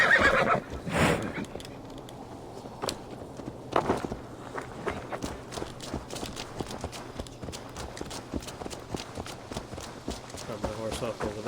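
A horse in Assassin's Creed Valhalla whinnies loudly near the start, then its hooves clop along in a steady walking rhythm under speech and game ambience.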